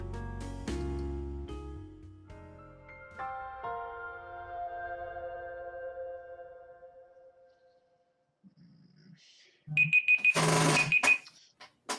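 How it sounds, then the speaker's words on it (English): A cluster of bright, high electronic beeps from a laundry timer sounds near the end, after a stretch of fading harmonic tones and a low hum. "I hear beeping. That is my laundry timer."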